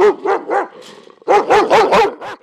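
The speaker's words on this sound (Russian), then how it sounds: "Этот с виду грозный пес Михалыч тоже рискует остаться на голодном пайке" A large, fierce-looking dog at an animal shelter barks loudly and close, in a rapid run of repeated barks with a short pause in the middle.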